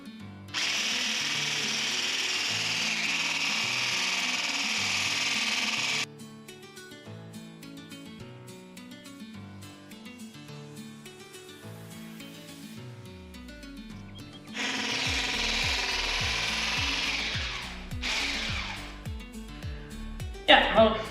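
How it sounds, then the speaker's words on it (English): An electric mixer whips cream in a bowl, a steady loud motor whine that runs for several seconds, stops, then starts again later, with music playing underneath throughout. "And then just using our electric mixer"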